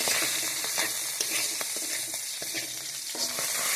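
Small local fish fry in a wok with a continuous crackling sizzle, with soft stirring knocks now and then and no voices.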